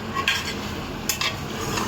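Mutton curry with garlic is stirred in a pan. A spoon scrapes steadily through the thick mixture with a few brief metallic clinks, and no one talks.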